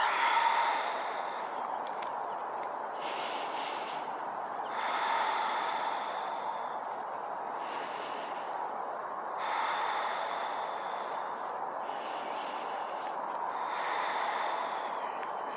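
Deep, slow breathing during a yoga trapeze flow, with audible breaths in a regular rhythm of about every two seconds, close and steady, no talking.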